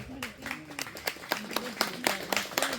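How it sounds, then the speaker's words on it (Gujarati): Applause at a Gujarati social media YouTube meetup during an award presentation, with scattered individual claps and cheering voices under talk, uneven and moderately loud. "જોરદાર તાળીઓના ગડગડાટથી વધાવજો ભાઈ."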